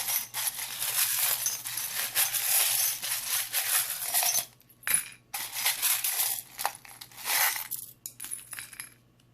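Small metal charms clink and rattle as they are tossed and picked through, with bursts of jingling broken by brief pauses and sharp clicks.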